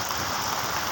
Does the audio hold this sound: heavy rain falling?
yes